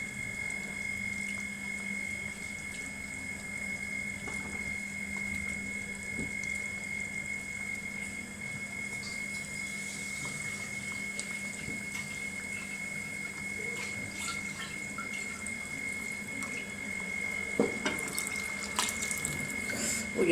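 Water runs steadily from a tap or jug into a pot of thickened sambar, a continuous close pouring wash lasting throughout with a slight louder splash near the end, no voices.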